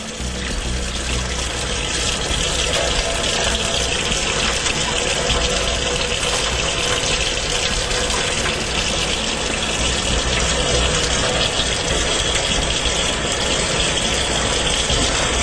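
Water runs and churns steadily as rice is swished around for rinsing before going into a Tiger rice cooker, a continuous close, fairly loud wash with no talking.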